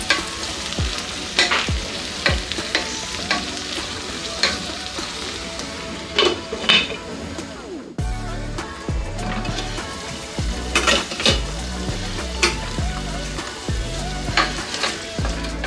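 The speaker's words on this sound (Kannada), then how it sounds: "ಒಂದು 5 ರಿಂದ 8 ನಿಮಿಷದಷ್ಟು ಎಣ್ಣೆನಲ್ಲೇ ಫ್ರೈ ಮಾಡ್ಕೊಳ್ಬೇಕು." Chopped ridge gourd fries in oil in a pan, a steady close sizzle broken by repeated scraping and clinking strokes of a spatula as it is stirred.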